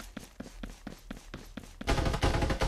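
Gunfire from a teammate's fight in the video game Farlight 84: a rapid, rhythmic string of automatic shots at mid distance, then a louder, denser burst of firing near the end, with no talk.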